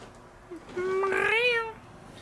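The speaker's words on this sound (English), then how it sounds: "Meow. Meow. Kitty. Meow." A cat gives a single clear, drawn-out meow up close after a faint short chirp, rising and then falling in pitch against quiet room noise.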